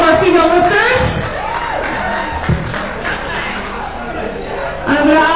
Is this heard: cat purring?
no